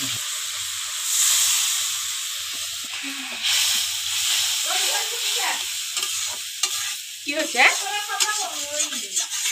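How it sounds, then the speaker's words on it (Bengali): Spice paste frying with onion and garlic in a pan for an egg curry, a steady hiss and sizzle with stirring scrapes that swell as the paste is added, while someone talks over it. "পেস্ট করা মশলাটা পেঁয়াজ রসুনের মধ্যে মশলাটা দিয়ে দেবো এখানে, আর মশলাটা দিয়ে একটু কষিয়ে নিব।"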